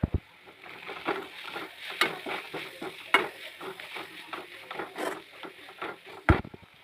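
A spoon scrapes and stirs ginger and spices in a sizzling pan for a chicken stew, with quick, irregular strokes and sharp clinks against the pan over a soft frying hiss.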